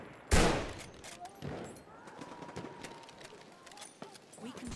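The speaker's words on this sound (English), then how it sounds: "There's a machine gun." Gunfire in a World War 1 video game: one loud, sharp blast opens, followed by fainter scattered shots and battlefield rumble in the background.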